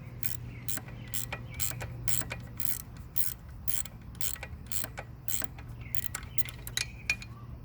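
Small metallic clicks, creaks and ratcheting of a 10mm wrench loosening the shifter on a KM100 motorcycle, sounding as a close, irregular series of short ticks and scrapes over a low steady hum.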